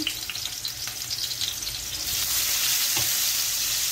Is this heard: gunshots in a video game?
no